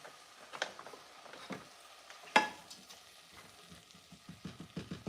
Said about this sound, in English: And now we're going to stir this up.